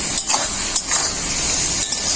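Mixed fruit chutney fries in a pan with sugar, a constant loud hiss of sizzling with a few brief scrapes of stirring breaking through.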